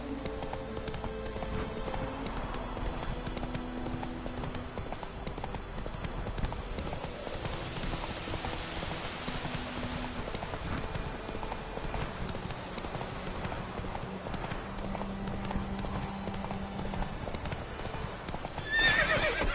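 Roach, the horse in The Witcher 3, trots with steady clip-clop hoofbeats and whinnies, heard clearly and close at a moderate level throughout, with no talk over it.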